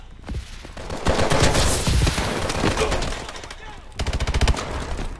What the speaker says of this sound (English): Are you still shooting out the window?